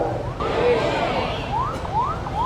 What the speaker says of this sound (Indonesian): Ambulan lewat.